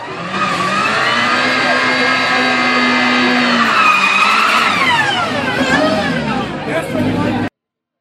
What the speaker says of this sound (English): Take a listen to this supercharged MX-5 pushing 30 psi of boost.